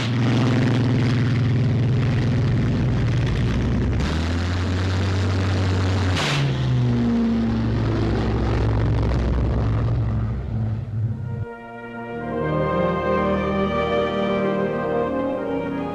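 Hawker Sea Fury piston fighter engine at 2,700 rpm during a carrier catapult launch, a loud sustained propeller drone with shifting tonal pitch, a sharp surge midway, then a changing harmonic whine as it pulls away.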